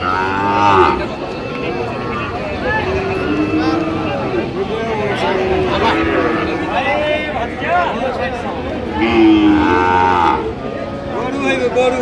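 Sahiwal cattle moo loudly and repeatedly close by at a cattle market while people talk and murmur in the background.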